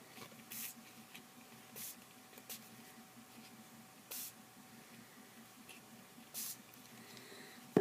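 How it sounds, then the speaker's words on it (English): Delusions White Linen Spray sprayed onto a collage frame gift in short, faint hissing bursts, four of them spaced a second or two apart over a quiet room background. "Spray some white on."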